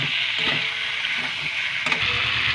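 Boiled potatoes frying in spice paste and released oil in a pan for aloo dum, a steady close sizzle with occasional stirring knocks.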